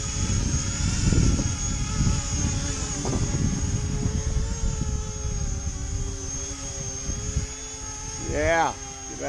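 E-flite Convergence RC aircraft hovering in strong wind, a continuous high electric motor whine with propeller buzz over heavy wind rumble, the pitch briefly rising and falling near the end.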